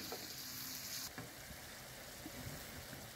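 Sweet and hot peppers sautéing in a pan with onion for an Egyptian fava bean dish give a steady sizzle, with a spoon scraping and clinking as they are stirred.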